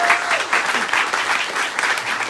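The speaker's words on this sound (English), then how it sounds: "Give yourselves a round of applause." Audience applause at a political campaign canvass kickoff event, dense and sustained clapping from a sizable crowd filling the room evenly throughout, with faint voices mixed in.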